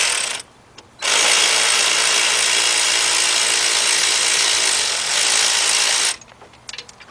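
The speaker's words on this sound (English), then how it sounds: "take your ratchet and spin. It's going to spin the joint, and it's going to hold the nut in place." A powered ratchet spins off the ball joint nut on the upper control arm of a 2007-2017 Lexus LS460, giving a loud, steady mechanical whir that runs for about five seconds between quiet pauses, with no talking.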